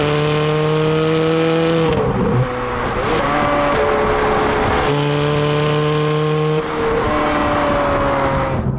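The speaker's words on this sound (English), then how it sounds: "this madcap engine and exhaust combo" A loud, close Ferrari 430 Scuderia V8 engine and exhaust roars and revs hard, its pitch climbing steadily and then dropping sharply at each gearshift, several times in a row.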